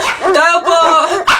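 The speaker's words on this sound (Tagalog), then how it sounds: "Kapag daw tumatahol yung aso sa gabi" A dog barking nearby at night, a short run of loud, close yips and barks in quick succession.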